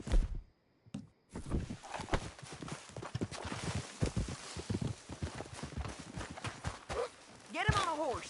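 Horse hooves in Red Dead Redemption 2 clip-clop at a walk throughout, in an uneven rhythm close by under voices and ambient game sound.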